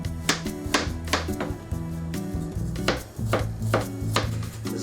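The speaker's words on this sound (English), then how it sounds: "mince this ginger." A knife mincing ginger on a cutting board for Chinese dumpling filling, rapid rhythmic chopping taps repeating steadily at close range.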